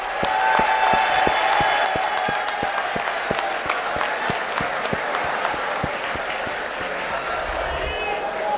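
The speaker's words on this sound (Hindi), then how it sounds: "आप सबकी भरपूर तालियों में" A crowd at a poetry mushaira applauds with loud, sustained clapping that gradually thins toward the end.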